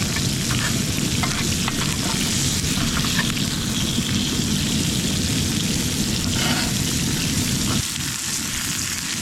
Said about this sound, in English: the steak is still cooking a bit, but my onions are done